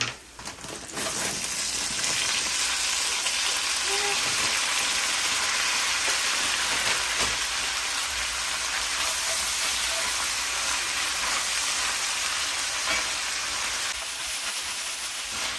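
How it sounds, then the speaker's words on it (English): Green beans hit a frying pan of bacon grease and set off a loud, continuous hissing sizzle, steady and close, like heavy rain, with no talk. "We can go ahead and start to add in the green beans."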